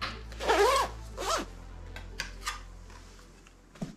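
A hoodie's zipper is pulled open in two quick rasping runs, followed by a few faint clicks and rustles of the fabric, close and clear with no one talking.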